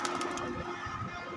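Pigeons kept at home coo softly and faintly in a quiet, brief low murmur with no voices over it.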